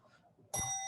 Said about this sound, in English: So go ahead and hit that bell there.